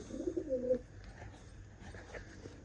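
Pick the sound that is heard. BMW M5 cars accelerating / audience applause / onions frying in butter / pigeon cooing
pigeon cooing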